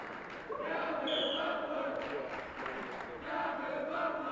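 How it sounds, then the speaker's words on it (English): High school wrestling crowd at Marblehead chanting a wrestler's name in unison, a steady roar of many voices filling a gym with rhythmic swells. "we got the crowd getting involved now, chanting Gavin's name"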